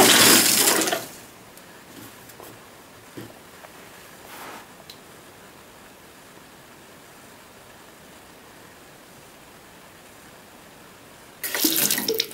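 Water rushes from opened taps in a plumbing system fitted with a pressure reducer, a loud gush at the start, then a faint steady flow through the pipes, and another strong burst of running water at the end.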